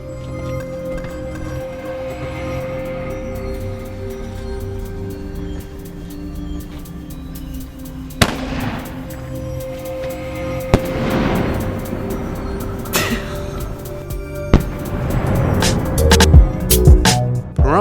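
Red and silver peony fireworks burst in Pahrump, Nevada, with several sharp booms and crackling thumps over a steady background hum, the blasts coming faster and louder toward the end.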